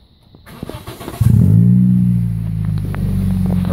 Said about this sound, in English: Start your car back up.